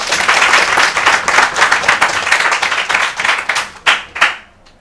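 An audience at a press conference bursts into dense, lively clapping that holds strong for several seconds before thinning out to a few last scattered claps and fading.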